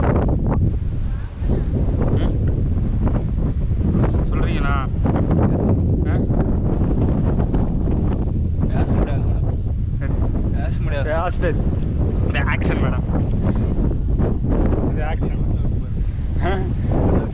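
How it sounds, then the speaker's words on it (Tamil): Strong wind on a rainy trek up Kondarangi hill, 3825 feet high, buffets the microphone with a loud, continuous rumbling roar, and someone talks over it throughout. "சரியான காற்று"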